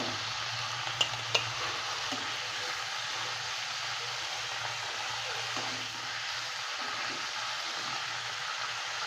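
Fish pieces for fish karahi fry in hot oil, giving a loud, continuous sizzle with a low hum beneath and two brief sharp clicks early on.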